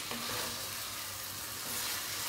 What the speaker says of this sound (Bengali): অল্প কিছুক্ষণের জন্য সটে টাইপের করে নিব।